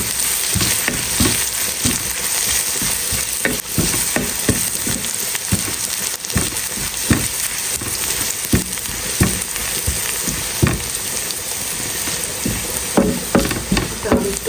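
Garlic and oil frying in a pot, a continuous close, loud sizzle with repeated stirring and scraping taps throughout, no voices.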